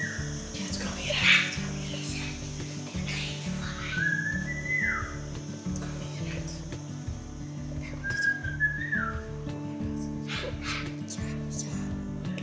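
During a game of hide and seek in a house in Spain, a whistle sounds in two short, shrill blows. A steady tonal hum and faint rustling sound underneath, and the whistle seems a little distant.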